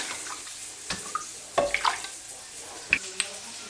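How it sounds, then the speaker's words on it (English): A little water is poured into a pan of passata pasta sauce, giving soft, faint splashes and a few light clinks over a couple of seconds in a quiet kitchen. "Just pop some water in,"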